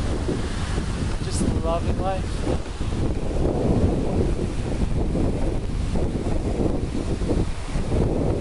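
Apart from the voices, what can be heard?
ocean waves and wind on Tulum beach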